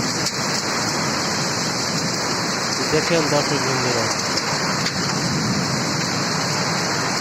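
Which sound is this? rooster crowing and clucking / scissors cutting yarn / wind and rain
wind and rain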